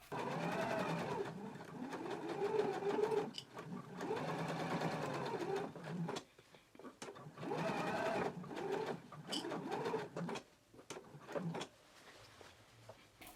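A sewing machine bastes the raw edges of a jacket lining flap together, running in several short stitching bursts separated by brief pauses, close and fairly quiet.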